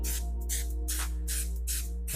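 A can of spray adhesive being shaken by hand, its mixing ball rattling in quick, regular strokes against a steady low background hum.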